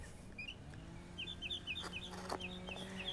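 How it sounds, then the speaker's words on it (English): A bird calls in the background with repeated short chirps in quick runs, fairly faint over a low steady hum. "The bird got a lot to say."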